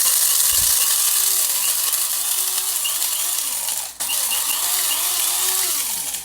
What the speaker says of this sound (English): I'm gonna grind up my coffee beans